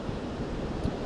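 Agitated surf on a Panama beach, a steady wash of rough waves breaking with wind noise over the microphone, moderately loud and continuous, with no voices.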